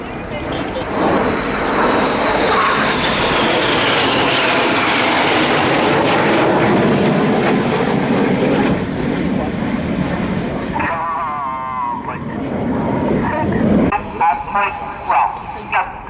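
RAF Red Arrows jets flying in close formation at the Royal International Air Tattoo 2016, a loud sustained roar that sweeps past and fades, with a public-address commentator talking over it.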